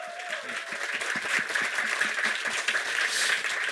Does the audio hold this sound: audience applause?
yes